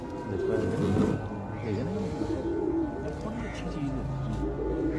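A pigeon coos in soft, rolling low calls, repeated several times under a steady background hum, while people converse nearby.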